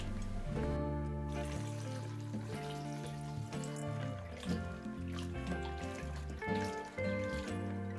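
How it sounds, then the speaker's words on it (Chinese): Thick slices of bamboo shoot rinsed by hand in a basin of clean water, with continuous sloshing and trickling close by. "装入盆中，用清水洗一遍。"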